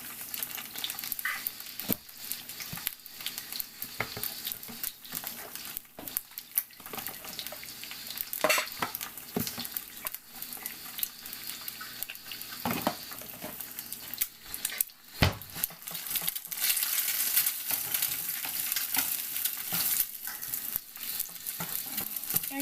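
Seasoned eggs sizzle and crackle in a pan while a utensil stirs and scrapes through them, steady frying with irregular clinks and scrapes close by, no talk.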